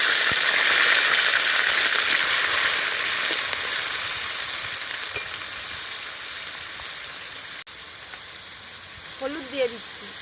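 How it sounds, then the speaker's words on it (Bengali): Prawns fry in hot oil in a wok, giving a loud, steady, close sizzle with faint stirring clicks that eases slightly toward the end, where a brief voice is heard. "বানানোর জন্য প্রথমে আমি চিংড়িটা ভেজে নেব। তার জন্য কড়াই তেল দিয়ে দিচ্ছি।"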